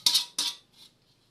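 Two sharp metallic scrapes of a spatula against a wok while chicken biryani cooks, followed by a softer third scrape and a faint ringing tail, close and clear with no talking.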